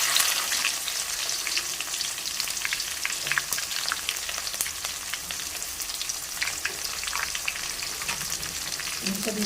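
Sliced garlic and onions fry in a pan for a dry fish and broad bean curry, giving a steady, close crackling sizzle with occasional stirring.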